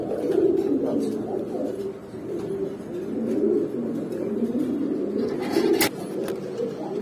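Racing pigeons of the black Burmese type coo in a loft, with overlapping low throaty coos in a steady stream, close and fairly loud, plus a brief sharp knock near the end.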